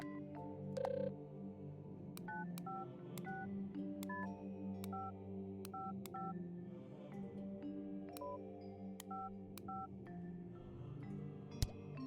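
Bright electronic telephone keypad dialing tones in a video game, a series of short beeps in irregular clusters over a soft background music bed.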